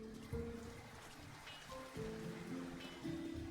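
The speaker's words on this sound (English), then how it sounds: "Who could live in a town where it's always raining?" Steady rain falling on a town in the video game LOTR: War in the North, a soft continuous patter with a few low tonal game sounds underneath, faint and even throughout.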